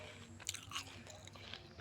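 Someone bites into and chews a fresh fruit picked from a garden tree, with a few soft crunchy bites close up in an otherwise quiet setting.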